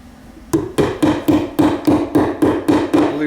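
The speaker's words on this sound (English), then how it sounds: "I'm going to go ahead and staple these up to the center of the stud." Hammer blows drive staples into a wooden wall stud to fasten electrical wiring, about ten sharp, evenly spaced strikes in quick succession, loud and close with no talk.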